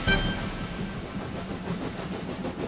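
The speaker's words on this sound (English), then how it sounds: "The train went slower and slower" Rolling train noise with a puff of steam at the start, the rhythmic rumble fading and thinning as it slows, no speech.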